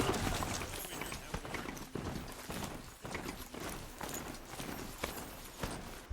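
Video game horse hooves clip-clop in a steady galloping rhythm, close and continuous, as the rider sets off along a path.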